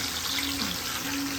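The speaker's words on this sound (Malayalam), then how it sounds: "കുറച്ച് വെള്ളം ഒഴിച്ചിട്ട്" Water poured from a vessel into a mixer jar holding a hot ground mixture during home cooking, a steady close trickle lasting just over a second with no talk.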